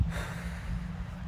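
A single deep breath during a breathing exercise, close to the mic: a sharp nasal inhale followed by a soft, airy exhale.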